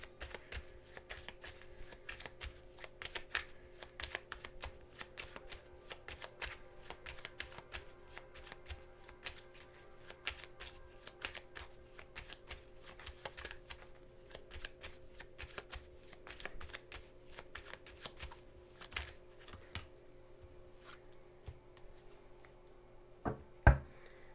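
Tarot cards being shuffled continuously for over twenty seconds, a soft, steady riffling patter with scattered sharper flicks, close and quiet, ending in a brief louder tap.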